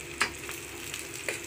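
Plantain fish roast frying in a pan, a soft continuous sizzle with a couple of sharper spits and stirring scrapes, close and fairly quiet, no talking.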